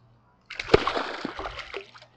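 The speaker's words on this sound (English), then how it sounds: "Let's get him out of the water." A carp thrashes and splashes at the surface as it is lifted out of the water after a hook set in the side of the mouth, giving about one and a half seconds of close, loud splashing and sloshing.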